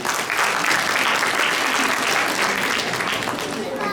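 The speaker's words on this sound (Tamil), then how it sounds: "எங்கே உங்கள் கரகோஷம்." A hall audience at a Pongal festival gathering of a school's old students claps in a dense, sustained round of applause, loud and even for the whole stretch.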